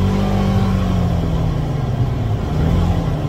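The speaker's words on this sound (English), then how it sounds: "Now I'm gonna almost floor it." A Polaris Ranger XP 1000 side-by-side accelerating at near full throttle, a loud continuous engine roar with a steady droning rumble throughout, heard up close from the cab.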